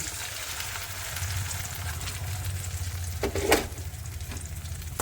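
Ground spice paste goes into a pan of frying onion and tomato for an egg curry, setting off a steady close sizzle with stirring scrapes and a brief sharper hiss burst near the end.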